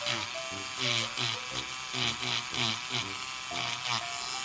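Rotary router tool grinding the nose of a doll head, a steady high-pitched whirring buzz that rises and falls slightly as it cuts, with a voice talking over it.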